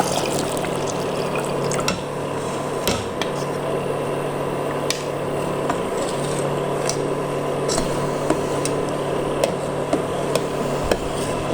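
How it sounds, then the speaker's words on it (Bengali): Milk pours into melted jaggery in a pot, giving a continuous close liquid gurgle and trickle broken by scattered clicks and clinks. "দুধ দিয়ে দিচ্ছে।"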